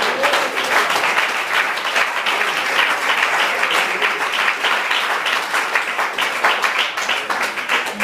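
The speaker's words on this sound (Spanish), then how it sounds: "Aplauso para el rey." A church congregation bursts into loud, sustained applause, dense clapping continuing evenly throughout without a break.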